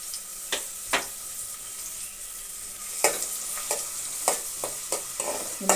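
Onion and green chilli fry in a pan with a steady high sizzle, broken by several sharp scraping stirs of a spoon. The stirs come in quick bursts near the end.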